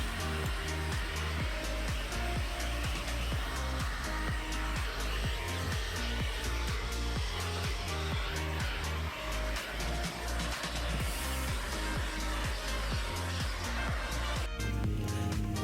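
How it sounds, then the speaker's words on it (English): A loud, steady motor whine drones continuously like a vacuum cleaner running close by inside a Cobra car, with bumps and clatter over it. "let's go ahead and just get the vacuum and get the new mats installed"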